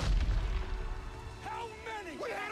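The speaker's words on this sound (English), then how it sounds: "Some trees exploding from artillery fire." Artillery fire exploding trees in a Call of Duty WWII trailer: a deep, rumbling boom at the start fades under someone talking, with distant battlefield noise behind.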